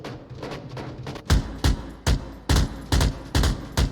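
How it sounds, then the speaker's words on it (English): Rapid bursts of gunfire in the VR shooter Onward, heard as about eight loud, sharp shots spaced roughly every half second, close by, with a softer rumble of distant firing before them. "The gunshots are going to ring out"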